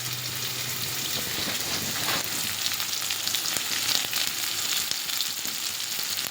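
Stuffed brinjal (eggplant) coated in masala fries in hot oil for a North Karnataka ennegai palya, giving a steady, close, crackling sizzle with no voices.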